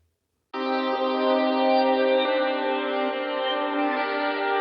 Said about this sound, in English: The next effect we want to add is reverb.